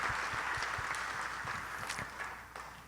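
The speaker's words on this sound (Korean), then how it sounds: "박수 한번 하겠습니다" A church congregation at a Korean Sunday worship service claps in applause, a steady patter of hands filling the room at moderate distance, with a few sharper, closer claps standing out before it gradually thins.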